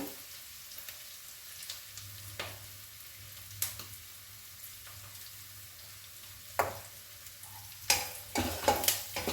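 Garlic frying in a little oil, a quiet fine crackle with sporadic sharp pops and spatters that grow busier toward the end, close by and without talk.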